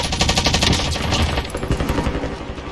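A Stoner 63 machine gun fires in a video game with loud, sustained rapid bursts of automatic gunfire that continue without a break, close and dense, and no one talks.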